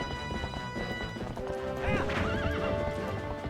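A horse in The Legend of Zelda: Twilight Princess HD clip-clops steadily as game music plays, then gives a loud, wavering neigh partway through.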